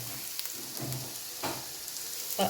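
Garlic and ginger sautéing in a hot pan, a soft, quiet sizzle with a few faint scrapes and stirring clinks, heard alone without talk.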